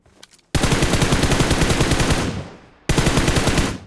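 Loud, close automatic gunfire in a shooter game as a buggy driver is gunned down: a long sustained burst of rapid shots, a brief pause, then a second burst.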